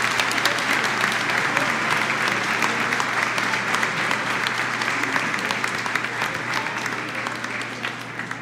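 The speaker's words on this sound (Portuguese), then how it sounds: "eu quero encorajar a todos os homens que aqui estão, a que deem uma bonita salva de palmas" A church congregation at a Sunday evening service claps in sustained, dense applause that fills the hall steadily from start to finish.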